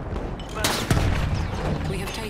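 Rapid video game gunfire with sharp bursts and a heavy boom-like crack, in a chaotic multiplayer match aboard a vehicle, mixed under excited player chatter.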